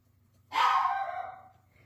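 A dog gives one drawn-out bark indoors, moderately loud against a quiet room with a low hum, then trails off over about a second.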